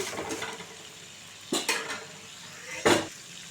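Tomatoes are stirred in a cooking pot for a Telugu-style broad bean and fish curry: a few quiet scrapes and clinks of a utensil against the pot, separated by soft near-silent gaps.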